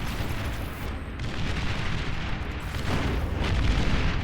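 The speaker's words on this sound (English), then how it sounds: "I like the big booms from the Fat Boys" Heavy Fat Boy artillery units in the real-time strategy game Beyond All Reason let off dense, overlapping booms and rumbling blasts, a continuous loud barrage that swells toward the end.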